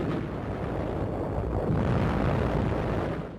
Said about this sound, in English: Artillery shells score direct hits on Japanese positions.